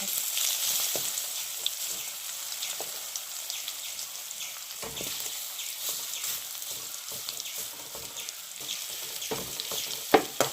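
Chicken frying in hot coconut oil in a pan over medium flame, a dense, continuous crackling sizzle with scattered pops and spatters, close and fairly loud throughout.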